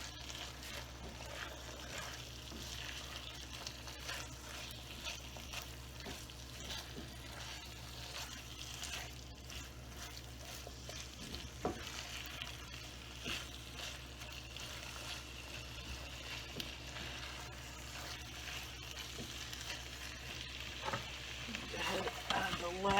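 Kale and beef cooking down in a pan for a cheesy casserole, making a faint, steady sizzle with soft rustling and occasional stirring sounds that grow slightly louder toward the end.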